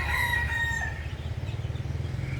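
A bantam rooster crows once, loud and close, its call falling away into a steady low rhythmic rumble with no voices.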